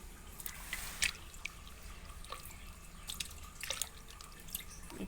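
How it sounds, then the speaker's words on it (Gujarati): Coriander and curry leaves are rinsed in running water in a kitchen sink, with a faint steady trickle and scattered drips and splashes, quiet and close. "મીઠો લીમડો અને કોથમરીને બરાબર ધોઈ લેશું"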